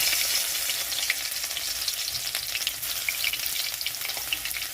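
Garlic fries in hot mustard oil in a wok, giving a dense, steady close-up sizzle with crackling bursts throughout and no talk.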